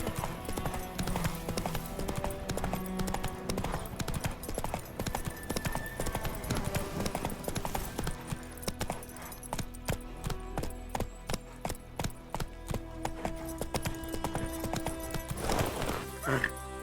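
Hooves of Roach, the horse in The Witcher 3 game, clop in a steady trotting rhythm throughout, close and prominent over a dense layer of game music and ambience.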